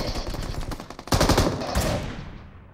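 Automatic gunfire in the PUBG Mobile video game: a rapid burst of shots grows louder, then trails off into a fading echo.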